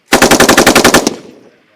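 A vehicle-mounted machine gun fires during a U.S. Marines live-fire exercise, one loud, close burst of about a dozen rapid, evenly spaced shots that ends abruptly and leaves a fading echo.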